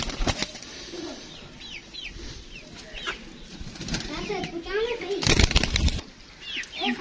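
Karbalai pigeons flutter and flap their wings close by amid soft cooing and chirps, with a person talking intermittently and a loud rustling burst near the end.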